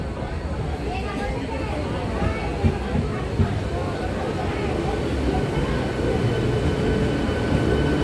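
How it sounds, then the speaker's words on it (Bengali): A train running from Amta to Howrah rumbles through a station in a steady, loud roar that builds slightly toward the end, with voices beneath it. "এই ট্রেনটা হাওড়া যাচ্ছে আমতা থেকে হাওড়া যাচ্ছে"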